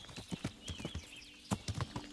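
Horse hooves clip-clop in Kingdom Come Deliverance, a medieval role-playing game: a run of sharp, close hoofbeats in short bursts with a brief pause mid-way, over faint game ambience.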